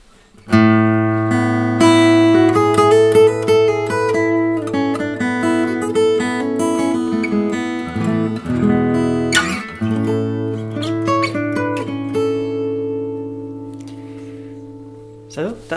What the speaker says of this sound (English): That's the sound of my guitar with this little USB microphone